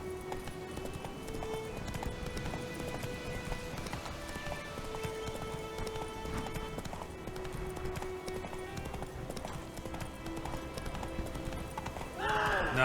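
A horse gallops in The Witcher 3, its hooves drumming a fast, steady clip-clop under game music, with a brief whinny or burst of louder sound near the end.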